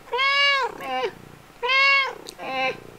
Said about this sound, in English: Oh my god, cats are so fascinating.